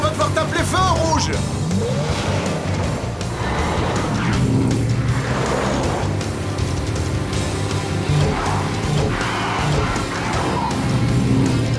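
Animated cartoon race cars accelerate hard, engines revving and tires squealing in a loud, continuous burst of racing noise with sweeping whines that rise and fall.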